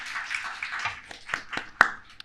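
A small audience claps for a few seconds, scattered and fairly faint, the individual hand claps sounding light and uneven.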